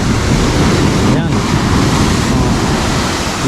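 Steady roar of surf with heavy wind buffeting the microphone, continuous and loud throughout, no distinct breaks between waves.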